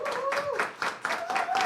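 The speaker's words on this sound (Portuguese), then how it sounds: "Vou pedir uma salva de palmas do pessoal da produção aqui para os convidados." A small production crew claps for the guests at the close of a live broadcast, a brief patter of hands beneath a voice that keeps talking over it.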